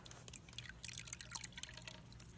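Coolant dripping during a flush of an engine cooling system while switching from ethylene to propylene glycol coolant, a quick patter of faint, close drips over low hum.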